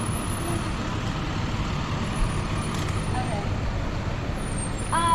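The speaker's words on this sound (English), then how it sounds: "There's so many cars here today." Road traffic of cars and buses passing near Harvard Yard in Cambridge, a steady low rumble of engines with an occasional high squeal, moderately close and continuous.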